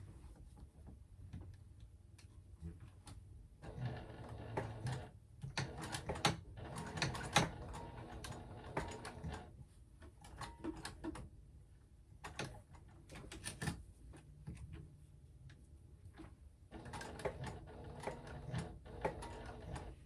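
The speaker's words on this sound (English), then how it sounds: "I'm just gonna go ahead and sew a very small box stitch right around here." A sewing machine stitches a small box stitch on a Penny Clutch handbag, heard as several short bursts of rapid mechanical stitching separated by quiet pauses, with no talking.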